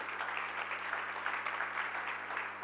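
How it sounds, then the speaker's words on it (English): An audience applauds steadily at a lunch symposium on HIV in Europe, a dense, even wash of clapping from many hands that fills the whole short stretch without pause. "So I mean, a big applause."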